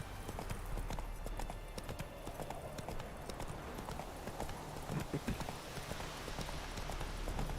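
Roach, the horse in The Witcher 3: Wild Hunt, trots with a steady clip-clop of hooves, close and moderately loud over a low ambient game background, with faint speech underneath.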